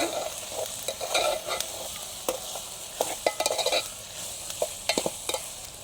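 Ivy gourd pieces frying with salt and turmeric, stirred in a pan: a bright crackling sizzle with repeated scraping spatula strokes, close and fairly loud, no voices.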